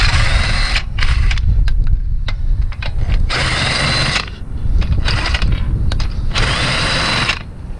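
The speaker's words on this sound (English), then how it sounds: "Take the wheels off like every video." Taking the wheel off an Infiniti G37: loud, close bursts of a pneumatic impact wrench rattling on the lug nuts, several whirring runs with short gaps of clicks and handling noise between them.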